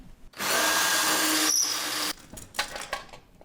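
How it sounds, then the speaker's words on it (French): A power drill fitted with a stepped conical bit enlarges a hole, giving a loud, sustained whirring grind for under two seconds, then stopping and leaving a few light clicks and handling sounds. "on va utiliser cette mèche conique étagée pour ouvrir les trous de plus en plus"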